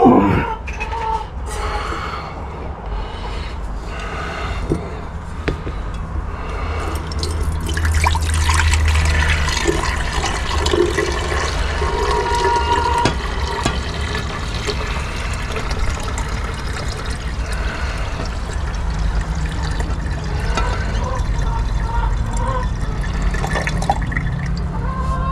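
Water is poured off gold sediment recovered from flat packs, then hot water rinses the gold, giving a continuous loud splashing and trickling with small drips and clinks, close up, with no talking.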